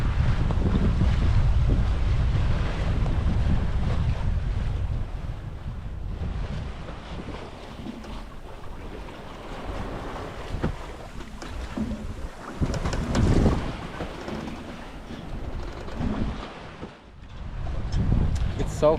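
A sailboat drifts in the doldrums on a nonstop Pacific crossing near the equator, with wind rushing over the microphone and the soft wash of waves against the hull. The sound swells and fades unevenly, and a voice speaks briefly over it.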